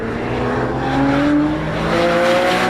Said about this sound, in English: The 2012 Porsche 911.